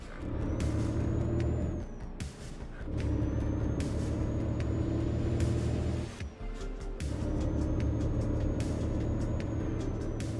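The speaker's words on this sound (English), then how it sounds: "Is the truck sound better now?" A heavy truck in Euro Truck Simulator 2 gives off a loud, steady diesel rumble with a faint high whine above it, broken by several sharp hissing air-brake releases and short dips as the gears shift.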